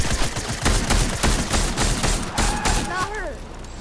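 Rapid gunfire shooting at Carnage in the video game Fortnite, dense bursts of shots over loud game music and effects, with a person talking excitedly over the action.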